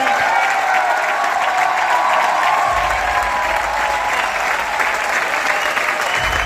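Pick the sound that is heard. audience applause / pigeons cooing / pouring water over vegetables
audience applause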